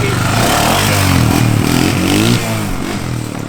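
Motorcycle engine revving hard and steadily for a first-ever wheelie attempt, loud and close with rising and falling pitch, easing slightly toward the end, no talk over it.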